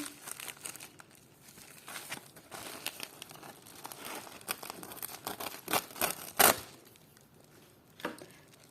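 A small plastic parcel bag holding a lot of vintage jewelry chains from eBay crinkles and rustles as it is unpacked, with scattered crackles and one louder crunch near the end, close and alone with no talking.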